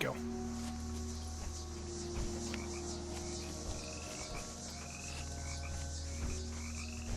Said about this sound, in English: Now, hearing those frogs,